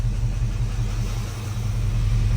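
A 1970 Dodge Charger's V8 idles steadily at close range, a deep, even rumble holding constant for a couple of seconds with no revs or voices.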